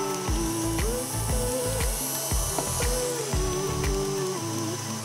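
An electric mixer beats tres leches cake batter while egg yolks go in, giving a loud, steady motor whine with a rhythmic knocking of beaters against the bowl, heard alone and close.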